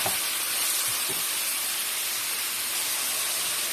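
Ground meat being sautéed in a pan, a loud, continuous broadband sizzle and hiss held close, with a few faint knocks at the start.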